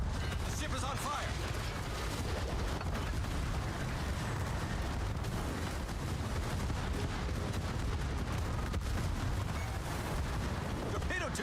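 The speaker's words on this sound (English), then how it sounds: "For me, the gun sounds are a little bit loud" Ship guns fire in the World of Warships naval battle game, with a continuous rumble of booming cannon blasts and explosions layered into a dense, steady roar of low-heavy battle noise.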